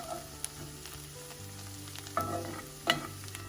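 Sambos filling for Malagasy samosas fries in a pan with a steady, close sizzle, punctuated by a few sharper crackles and clinks of stirring; no voices.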